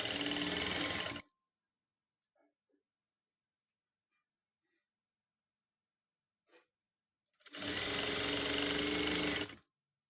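A sewing machine stitches piping onto a box neckline in two loud, even runs, one at the start and one near the end, with near silence and faint handling sounds between them.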